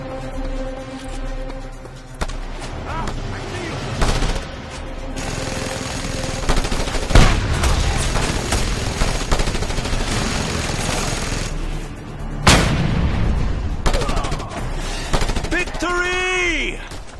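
A mounted gun fires rapid sustained bursts amid explosions and heavy combat noise in the video game Just Cause 2, loud and dense throughout, with voices speaking over the gunfire.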